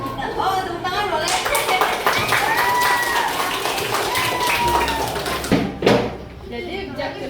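A classroom of students claps hands together after an English story lesson, a brief burst of applause mixed with voices and talking around it.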